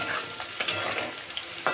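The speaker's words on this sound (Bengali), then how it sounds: "আলুটা একেবারে লাল লাল করে ভেজে নিয়েছি আলু ভাজার মতো" Potatoes sizzle steadily in a hot pan, punctuated by a few light scrapes and clinks of stirring.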